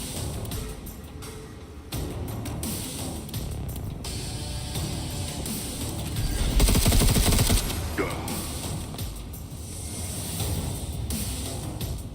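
Gunfire in the Necromunda: Underhive Wars video game, a Goliath gang's shots ringing out amid a dense game soundscape, with one heavier, louder burst standing out near the middle.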